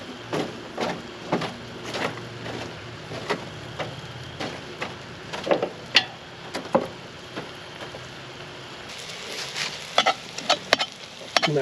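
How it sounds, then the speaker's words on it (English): Chorizo being mashed in a hot pan with mirepoix and herbs: repeated scraping and tapping strokes over a soft sizzle, with a brief quiet stretch, then quicker clusters of taps near the end. "Mashing up the chorizo."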